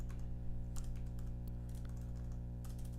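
Computer keyboard typed on while coding, faint scattered key clicks in short runs over a steady low electrical hum.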